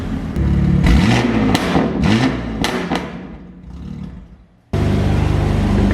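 A BMW M4 G82 with a full titanium exhaust revs hard in several quick throttle blips that rise and fall, then its roar tapers to a near-quiet lull before snapping back to a loud, steady engine drone, close up and with no voices.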